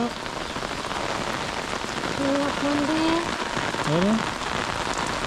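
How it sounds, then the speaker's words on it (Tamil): Steady heavy monsoon-style rain hissing across the whole clip, a dense broadband wash with no pauses; a couple of faint tonal chirps rise briefly near the middle. "சரியான மழை மழை பாருங்க"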